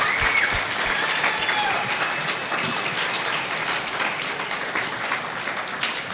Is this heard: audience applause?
yes